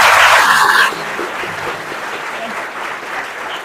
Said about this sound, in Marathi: सर्वांनी एकदा जोरदार टाळ्या वाजवा